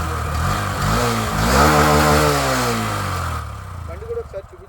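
A Honda Shine SP 125 motorcycle in neat condition with about 14,000 km on it runs close up, its engine revving up and easing back before settling into a rough idle.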